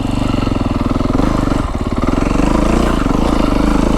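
A Beta 350 X-pro dirt bike engine thrumming while riding a mountain trail in southern Arizona, loud and close with a steady pulsing beat and a short dip in revs midway before it picks back up.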